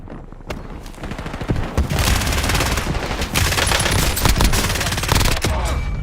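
Heavy automatic gunfire in Black Ops 6 Warzone on Verdansk, loud sustained bursts with sharp overlapping shots and booms running nearly the whole stretch, with faint game voice lines underneath.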